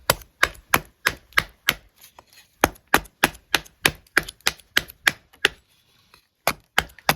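A Cold Steel Leatherneck SF fighting knife chops at a stick to carve a point, giving a steady run of sharp, close woody thwacks with a few short pauses and no talking.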